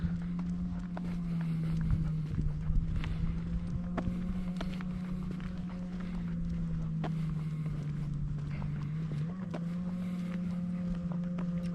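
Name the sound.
distant boat or jet ski engine on the water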